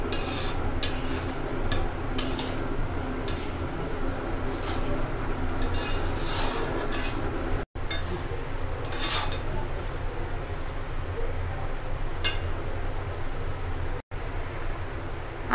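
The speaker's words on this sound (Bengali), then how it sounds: "এখন একটু নেড়ে চেড়ে দিব।" Olive pickle with mixed spices is stirred in a pan, with a steady run of scraping spatula strokes against the metal over a constant low background hiss.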